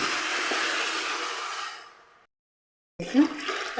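Water poured into a pot of rice being cooked for chicken mandi, a steady rushing pour that runs loud for about two seconds, fades out, then resumes briefly with a splash.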